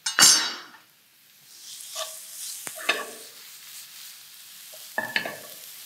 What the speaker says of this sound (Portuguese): Deixar refogar primeiro aqui um bocadinho a cebola